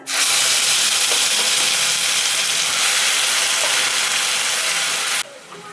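Ground masala paste frying in a hot pan, a loud, steady sizzle and hiss that runs unbroken for several seconds and then abruptly drops to a quieter background.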